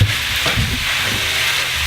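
Browned ground meat for pinto-bean chili sizzles steadily in a pan, a close, continuous frying hiss with some low stirring scrapes and no voices.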